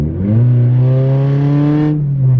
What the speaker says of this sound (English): If you floor it, it does that downshift and like as if it's going into 1st gear.